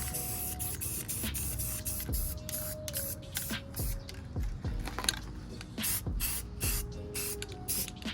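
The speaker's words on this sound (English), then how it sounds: "So now that's all spray painted" Short bursts of aerosol spray paint hiss on and off in an irregular rhythm, close by, coating the underside chassis of a Scion tC, with faint clicks and rattles between sprays.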